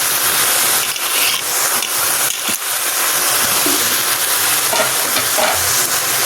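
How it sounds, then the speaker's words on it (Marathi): Chicken mince with spring onion, coriander and salt stirred in a hot pan for samosa filling, a loud continuous sizzle broken by repeated scraping strokes of the spatula, close and without talk. "हलवून घेते."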